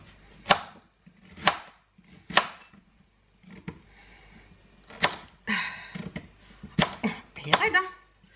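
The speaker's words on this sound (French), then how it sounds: "je vais la couper juste en gros morceaux" A knife cuts a raw carrot into large pieces with sharp, close thunks. The chops are spaced unevenly, some of them quickly one after another, and a voice is heard briefly between cuts.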